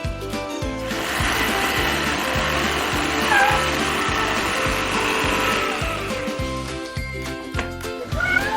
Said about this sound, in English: It's just the vacuum.